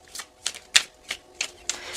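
Tarot cards shuffled close up in a steady rhythm of six or so crisp papery slaps, no voices.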